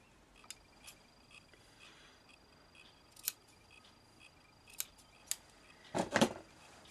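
Scissors trim off the end of a wrapped craft dangle, giving a few sharp, faint snips spaced apart in a quiet room, with a closer double snip at the end.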